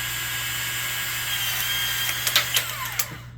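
A Ryobi power cutter runs at a steady high whine as it cuts 3/4 inch PEX A and PEX B pipe, ending in a few sharp clicks and snaps as the cut finishes.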